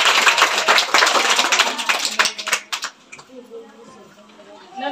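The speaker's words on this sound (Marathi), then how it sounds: "ठीक आहे, टाळ्या वाजवा जोरात." A group of schoolchildren clapping loudly at a village school competition, a dense burst of applause that thins into a few scattered claps and fades out after about three seconds.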